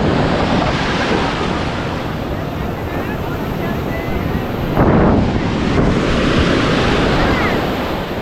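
Sea waves washing in at Puri beach, a loud, steady broadband surge with wind buffeting the microphone and a swell in the noise midway through.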